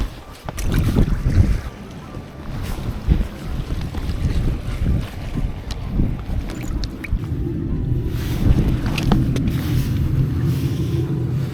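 Strong wind gusting around a boat during evening rockfish fishing off Ulsan, a steady loud rushing and buffeting with low rumbling throughout and no voices.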